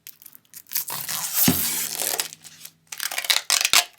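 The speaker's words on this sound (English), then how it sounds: "how do I get this plastic off?" Protective plastic film is peeled off a Redragon UCAL K673 Pro keyboard in loud, close crinkling and tearing bursts, separated by brief pauses and ending with a few sharp crackles.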